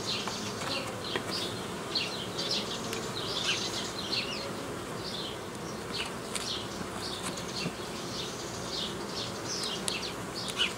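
A large colony of honey bees buzzes steadily around an open hive in a hobby apiary, a dense continuous droning hum close by with individual insects whizzing past, and nobody speaking.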